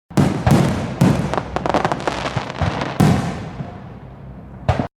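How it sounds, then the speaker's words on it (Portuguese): Fireworks burst over a city at night in a rapid, irregular volley of loud cracks and booms, with crackling tails between the blasts and a final sharp pop. "Na noite seguinte, grandes fontes luminosas feitas de faíscas brilharam no céu sobre a cidade. Fogos de artifício."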